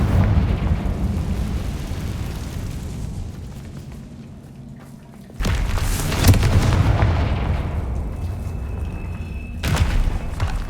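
Confringo blasting spells explode in Hogwarts Legacy, a heavy game boom erupting sharply near the middle and another toward the end, each followed by a loud rumbling tail over a low ambient bed.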